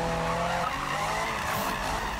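A Subaru BRZ sliding in the Need for Speed 2015 racing game, tires squealing and skidding loudly over a steady engine note, a continuous close screech with no voices.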